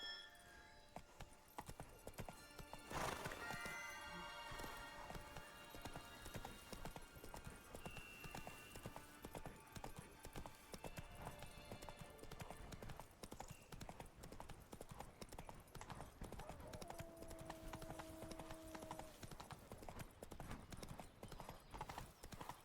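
The horse Roach trotting in The Witcher 3: Wild Hunt, a fast steady run of hoof clip-clops lasting throughout, with a faint whinny early on.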